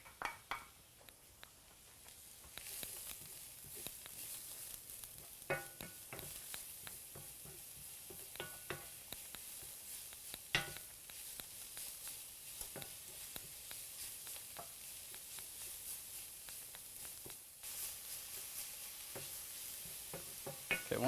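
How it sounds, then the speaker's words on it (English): Zucchini and garlic added to browned onions in a pan on the stove, a steady quiet sizzle that jumps up after a few seconds, with intermittent scrapes and taps of a utensil stirring. "we're ready to go ahead and add in our zucchini and our garlic"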